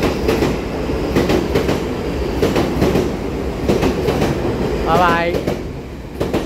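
A TEMU2000 Puyuma Express tilting train, sets 2029 and 2030, running via the coast line from Changhua to Hualien, rumbles past close by with rhythmic wheel clatter over rail joints and a brief squeal; a voice says a short farewell.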